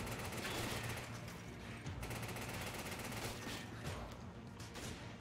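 Dense, continuous gunfire in the video game Resident Evil 5 Remastered, loud and sustained with overlapping bursts of shots and no clear pauses.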